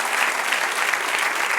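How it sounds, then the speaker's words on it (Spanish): A church congregation applauds together during a Spanish-language service, steady dense clapping throughout at an even level, with no voices rising above it. "Den un aplauso al que reina."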